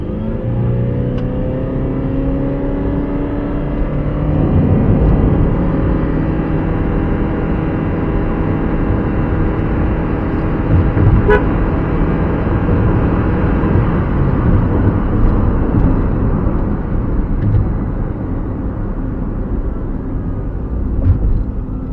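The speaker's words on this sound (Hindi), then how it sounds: "गाड़ी का एक छोटा सा 0 to 100 रन अप करते हैं।" A Toyota Aqua hybrid car accelerates hard from 0 to 100, giving a steady, loud interior drone with rising engine and road noise and some wind rush throughout, with no talking.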